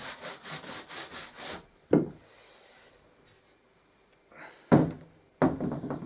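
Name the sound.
dusting debris off a board before painting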